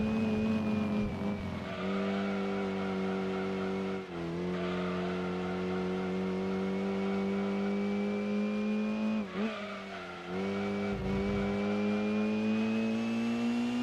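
A Mazda RX7 engine drones and revs in the racing game Gran Turismo 2, a loud, steady buzzing tone that climbs slowly in pitch, with brief dips at gear changes.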